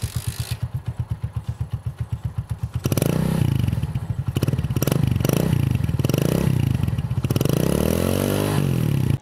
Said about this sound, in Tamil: இதோட எக்ஸாஸ்ட் நோட் செம்ம பஞ்சியாக இருக்கும்.